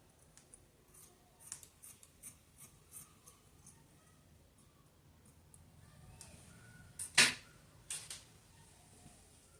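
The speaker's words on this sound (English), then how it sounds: "So I'm cutting out for my front like so." Scissors cut fabric for a drawstring trouser front, giving a series of quiet, rhythmic snips close by, followed by a louder, sharper cut near the end.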